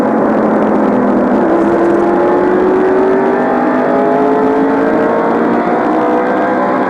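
Stock cars at North Wilkesboro in 1989, during a Winston Cup short track race, roar past in a steady loud drone, with engine pitch gliding as faster cars pass through the corners.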